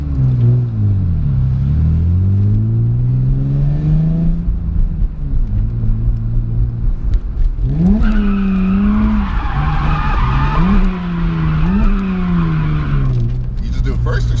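A drift car running laps on a track, engine pitch sweeping up and down with long squealing tire skids, loud and close, with people talking over it.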